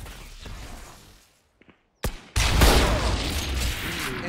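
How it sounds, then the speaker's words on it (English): Shotgun fire in a first-person shooter video game: a sharp blast near the two-second mark, then a loud, sustained burst of gunfire and game noise that carries on to the end. "Shotgun."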